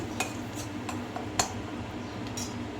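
Masala being stirred into ridge gourd curry in a pan over a low gas flame, with a few faint scattered clinks and scrapes of a spoon against metal over a low background hum.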